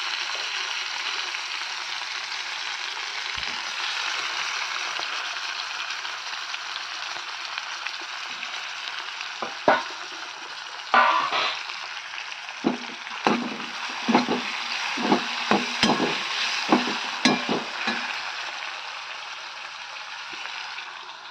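Chopped tomatoes frying in a pan, a soft steady sizzle with a run of scrapes and knocks from stirring in the second half.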